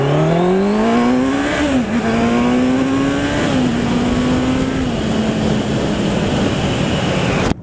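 A Honda CBR650F four-cylinder motorcycle revs up hard, its engine note climbing steadily with a whining edge, shifting and settling into a sustained high drone, loud and close with no speech.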